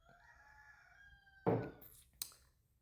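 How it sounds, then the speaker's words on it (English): Roosters crowing on a cold, wet morning, a drawn-out crow followed by a sharp louder burst and a brief second call, outdoors against quiet rain-dampened surroundings. "Roosters are all irritated because it's cold and wet, and they're ready to get on with their day."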